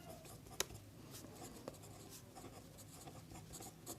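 Hand writing of a class 10 math solution, with faint pen or chalk strokes and a sharp tap, quiet and close against low room noise.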